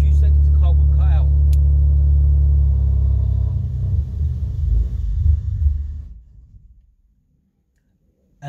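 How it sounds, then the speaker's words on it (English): A car engine idles with a heavy, close rumble, then falters and dies away into silence after about six seconds, as a fuel pump kill switch cuts it out. "now I'm going to put a foot on brake and start it again"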